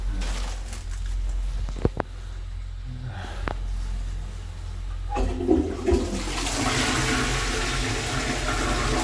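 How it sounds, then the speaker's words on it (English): A Balterley toilet flushes with a strong rush of water that builds midway and swells to a loud, steady wash, heard close with some faint background noise before it starts. "A pretty good flush on that one as well."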